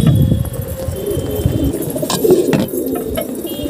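Pet pigeons coo loudly and close by, with soft rhythmic calls layered over a busy murmur of the flock and faint shuffling.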